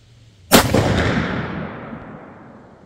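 A single loud, close shot from a .50 caliber muzzleloader firing a PowerBelt AeroLite bullet over IMR White Hots powder, a sharp crack followed by a long fading rumble.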